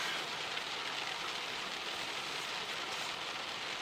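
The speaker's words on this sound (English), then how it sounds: "Still raining." Rain falls at night, a soft, steady hiss of drops on surfaces, faint and continuous with no voices.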